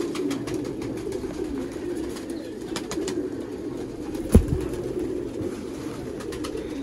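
Pigeons cooing steadily in a loft of Sialkoti flying pigeons, a low repeated cooing from several birds close by with a single sharp clack partway through.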